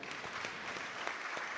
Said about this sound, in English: could we give Professor Phillip Kasaija Apuuli a thunderous hand clap?